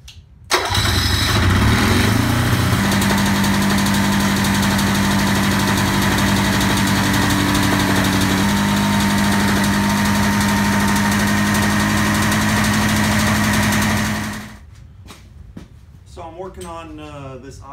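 A 500cc snowmobile engine fitted in an FL350 buggy fires up and runs loud and close at a steady idle with a brief pitch change, then shuts off, leaving talk afterward.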